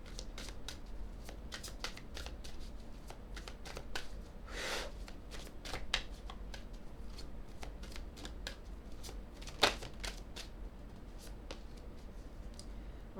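Tarot cards riffled and shuffled by hand in a quiet room, a steady run of crisp papery flicks with a few sharper snaps, close and fairly soft, with no talking over it.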